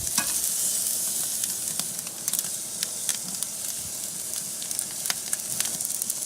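Steak sears in a hot pan during a reverse sear, a steady close sizzle with fat spitting in sharp crackles and pops, flipped several times for a crosshatch, with no talking.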